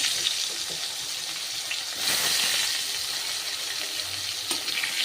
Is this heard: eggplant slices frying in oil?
yes